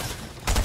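A short burst of shotgun fire in the video game Fortnite, a loud, dense blast crowding into the last third of a brief moment with no voices.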